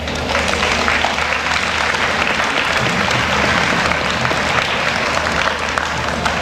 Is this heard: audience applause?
yes